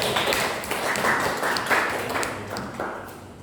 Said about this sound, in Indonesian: Mari kita berikan aplaus untuk berdua